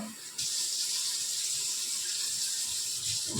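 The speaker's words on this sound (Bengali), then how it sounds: "একটু সামান্য জল আমি অ্যাড করলাম, আর একটু, এটা লাগবে জলটা।" Water pours steadily into a fish-head muri ghonto cooking pot, a continuous close splashing rush with a slight shift partway through, with no talk over it.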